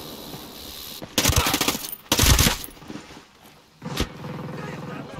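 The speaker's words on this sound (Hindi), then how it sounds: "मशीन गन ध्यान देना।" Machine gun fire in the tactical shooter Ghost Recon Breakpoint, with several loud, rapid bursts separated by brief lulls of quieter background noise.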